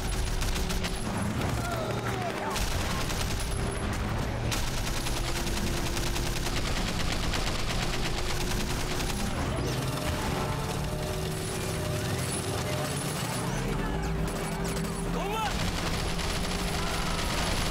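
Rapid automatic gunfire from car-mounted guns in the video game Sleeping Dogs, loud continuous bursts over engine rumble and game noise, with a voice speaking over it.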